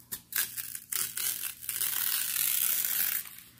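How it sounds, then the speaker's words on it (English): Crinkly crushing and crackling as a foam roller rolls over parchment paper, starting in short bursts and then settling into a steady rustling grind, close by. "That sound you're hearing is the foam roller."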